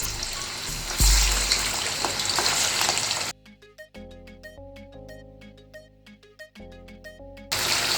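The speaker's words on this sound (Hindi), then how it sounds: "तो आइए इसको अंदर डाल के फ्राई करते हैं।" Three kilos of chicken dropped into hot oil in a karahi set off a loud, hissing sizzle with a heavy thump. A melodic music interlude follows, and then the sizzle returns.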